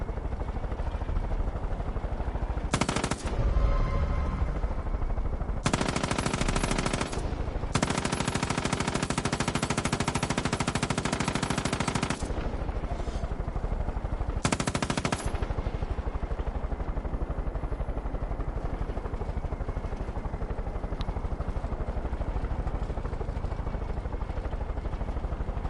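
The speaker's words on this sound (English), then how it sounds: "So yeah, random airstrikes now." Airstrikes in a video game come through as bursts of heavy rapid fire and blasts. They come in separate loud stretches over a constant rumbling background din.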